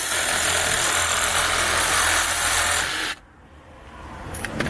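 Milwaukee M12 Fuel brushless cordless hacksaw cutting through a bolt: a loud, steady buzzing saw drone running for about three seconds, then stopping abruptly as the blade breaks through, leaving quiet room noise.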